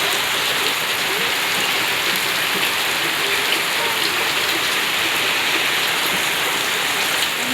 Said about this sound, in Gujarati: ખૂબ જ વરસાદ